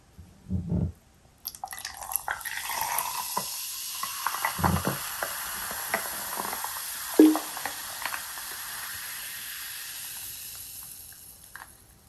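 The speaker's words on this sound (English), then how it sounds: "when you pour this pop drink into this glass, ice glass, and you hear the kind of the fizzing sound" Japanese fruit soda is poured into a glass of ice, with a couple of light knocks first, then a close pour that turns into a bright, crackling fizz that slowly settles and fades.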